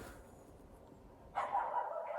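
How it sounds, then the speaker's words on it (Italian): A dog barks once, short and fairly faint, at a distance in a snowy rural village in northeast China, after a quiet stretch of low background hum. "E poi sono i cani che fanno"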